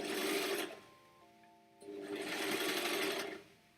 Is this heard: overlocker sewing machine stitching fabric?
yes